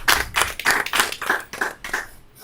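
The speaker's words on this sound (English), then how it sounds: "let's clap that up for that subject" A few people on a podcast clap together in a quick burst of about eight claps, close and fairly loud, with no talk over them.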